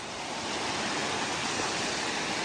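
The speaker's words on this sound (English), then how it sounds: "The water is very clear here. It's an awesome little creek." A clear little creek on Michigan's Keweenaw Peninsula rushes steadily, a dense, even wash of flowing water that stays close and constant throughout with no voices.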